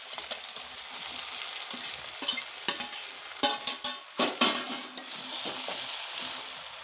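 Chicken chowmein with onion stalks is tossed in a frying pan, a steady sizzle broken by a run of sharp, rhythmic scraping strokes of the spatula against the pan, close and fairly loud.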